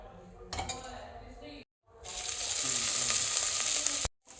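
Oil hits a hot pan for veg biryani: a brief clatter of utensils, a short silence, then a loud, sustained hiss of sizzling oil that cuts off abruptly.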